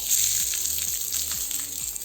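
Onions sizzling in hot oil in a heavy-bottomed pan for a Massaman curry, a steady close frying hiss with faint stirring scrapes, no voices.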